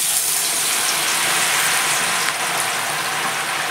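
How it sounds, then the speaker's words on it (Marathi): Washed grated potato shreds fry in hot oil over a low flame, giving a loud, close, unbroken hiss that holds steady throughout. "थोडा थोडा घालूनच आपण तळून घेणार आहोत"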